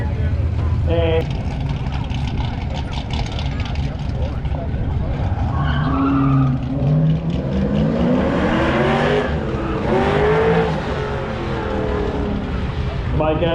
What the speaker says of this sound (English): fun running today in this little orange 64 Nova